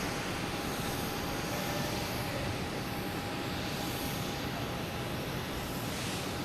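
An airplane at Boston Logan Airport produces a constant, loud, broadband engine roar with a faint steady whine running through it, as if heard close by on an afternoon at the field.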